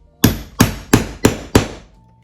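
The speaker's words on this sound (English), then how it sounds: "So you just place that right on top and then you pound it with a hammer." A hammer pounds a rivet on a car freshie craft project, five sharp evenly spaced strikes close up, each ringing briefly before the next, with no talking.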